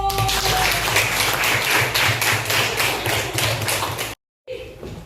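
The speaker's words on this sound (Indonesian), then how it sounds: "Tepuk tangan dulu." Children in a classroom clap their hands together in quick, rhythmic bursts, close and lively, before the sound cuts off abruptly near the end.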